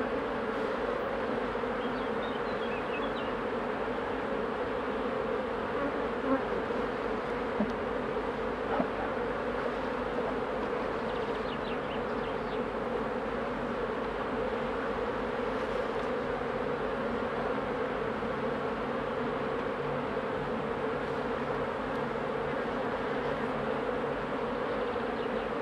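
Dense, steady swarm-like buzz of many honeybees around an opened hive during a colony inspection, continuous and fairly close with no voices.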